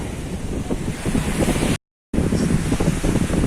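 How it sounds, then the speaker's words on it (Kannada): Strong wind buffets the microphone over surf breaking on Someshwara beach, a loud, steady roar of waves and gusts with a brief dropout near the middle. "ಇಲ್ಲಿ ಬಹಳಷ್ಟು ಜೋರು ಗಾಳಿ ಗಾಳಿ ಕೂಡ ಉಂಟು"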